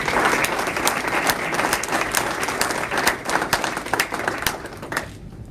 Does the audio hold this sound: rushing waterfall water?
no